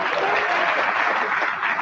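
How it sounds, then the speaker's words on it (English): A studio audience claps in a dense, even burst that fills the short moment, loud and close, with no voices standing out. "You're all clapping about this."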